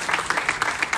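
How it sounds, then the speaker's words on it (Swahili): An audience at a corporate gathering breaks into brief applause, a quick burst of clapping that sounds moderately close. "Pigeni makofi."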